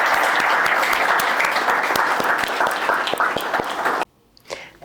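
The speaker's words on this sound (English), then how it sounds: "Can we have a round of applause for him?" Applause from a live audience at a conversation event with a young founder, a dense, steady roar of many hands clapping that stops abruptly near the end, followed by a brief faint trailing sound.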